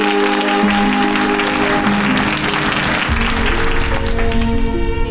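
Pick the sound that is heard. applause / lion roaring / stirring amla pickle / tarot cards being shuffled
applause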